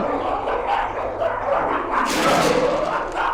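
Mummies in the Egyptian-themed horror game Amenti make dog-like barking and yipping cries, a cluster of throaty, fairly close calls rising in intensity near the end, with no talking over them.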